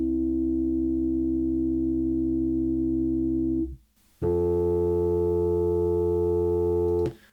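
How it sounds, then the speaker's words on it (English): Pure sine wave tones from a sine wave generator, tuned in just intonation: a steady harmonic tone holds for several seconds, breaks off briefly, then returns as a richer stable chord without wobble, alone and clear. "Now compare that to just intonation."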